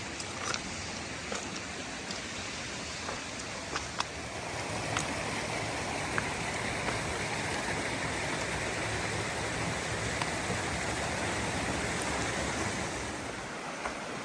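A river along a hiking trail rushes in a steady broadband wash, close and constant, with a few faint clicks and footstep-like knocks near the start and no talking.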